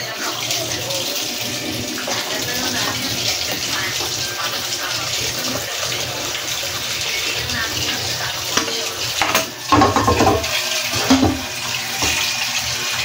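Running tap water splashes as three items are washed under it, a steady close rush of water with brief louder splashes and clatters midway.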